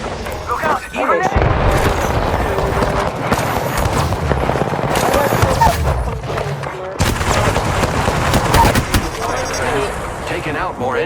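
Video game gunfire rattles in dense bursts of shots and booms throughout, with a brief lull near the start and another around the middle, while a voice talks over the action.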